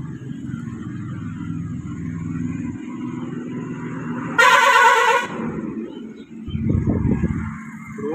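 A vehicle horn blares once for about a second beside a road in Balangir, loud and close, over the constant rumble of passing traffic and engines.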